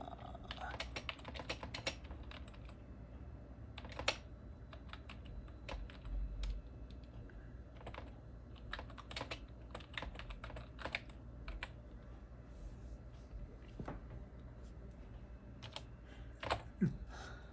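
Keys tapping on a computer keyboard in a home setup with an older Mac, a quiet steady patter of keystrokes with sharper clacks scattered throughout, close but faint.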